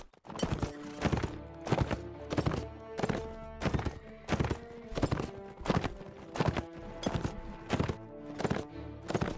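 Horses galloping in the Mount & Blade video game, a rhythmic run of hoofbeat clusters repeating steadily at close range, with the sound of several mounts together and no talking.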